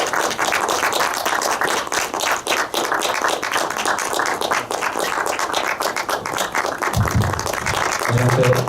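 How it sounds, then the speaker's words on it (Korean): Cinema audience applauding to welcome a film director and three actors on stage at a CGV theater in Daehakro, Seoul, continuous dense clapping throughout, with a voice briefly audible near the end. "박수로 맞이해주세요."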